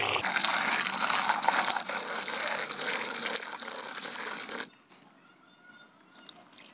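Water gushes over ground stone being washed for gold recovery, a loud continuous pour lasting about four seconds before it cuts off and leaves faint trickling.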